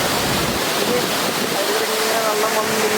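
Water rushes steadily at Attila waterfalls in Palakkad, a loud, continuous broadband roar close by with no pause for the whole clip.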